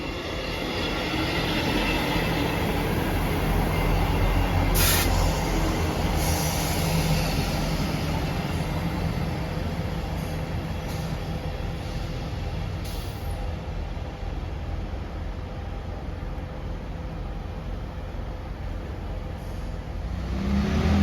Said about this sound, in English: Arriving in now is the 1408 ScotRail service from Glasgow Queen Street to Aberdeen